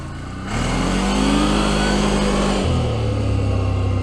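A CFMoto CForce 1000 ATV engine idles, then revs up hard and holds a steady loud drone before dropping to a lower pitch, out on a rocky trail with no talking.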